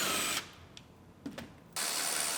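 A power tool unbolts the bumper cover of a collision-damaged 2018 Ford Explorer Limited AWD, two loud whirring bursts of steady buzz, close up, separated by a quieter pause with faint clicks.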